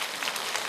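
Audience applause at a Korean lecture hall talk, a brief burst of dense, continuous clapping from a crowd with no speech.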